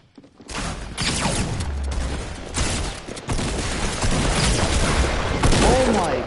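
Rocket explosions and dense gunfire in a shooter video game make a loud, continuous barrage of booms and rattling bursts, heavy and close throughout.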